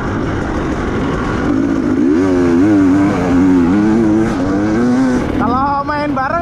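A motorcycle engine drones loudly and close while riding in the rain in Majalengka, rising and falling in pitch as the throttle is worked, then revving higher near the end.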